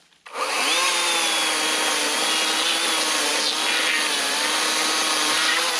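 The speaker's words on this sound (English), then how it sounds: "That's pretty nice chainsaw work right there." An Atlas 80V battery chainsaw from Harbor Freight starts up and cuts through a large limb with a steady, loud, high whine under load for several seconds.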